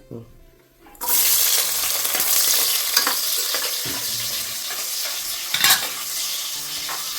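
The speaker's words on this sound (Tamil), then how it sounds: "வெங்காயம் நல்லா வணங்கட்டும் நல்லா வணங்கணும்" Onions sizzle and fry in a pan for Sunday country-chicken biryani, with a steady, close hiss and repeated scraping stir strokes throughout, starting abruptly after a quiet moment.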